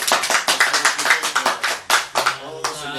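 A small gathering of Honda Brio car community members gives a short burst of brisk, close hand clapping that thins out after a couple of seconds, with a voice speaking as it ends.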